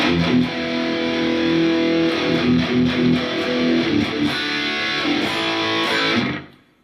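A heavily distorted electric guitar plays loud, sustained chords through an amp with a gritty roaring tone, a patch on a Quad Cortex, then fades out quickly at the end.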